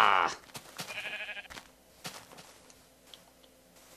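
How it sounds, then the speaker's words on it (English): A sheep in the video game Minecraft gives a short, loud bleat at the start, followed by a softer bleat and scattered faint clicks and ticks of gameplay. "There's some more sheep."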